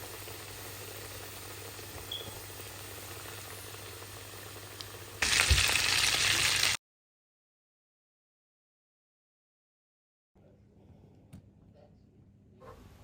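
Minced-meat potato chops fry in oil with a steady sizzle, which swells louder for a moment. A stretch of silence follows, and then a quieter kitchen background returns.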